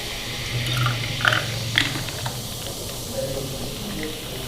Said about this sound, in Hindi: इसके अंदर हम और सॉफ्ट ड्रिंक डालेंगे।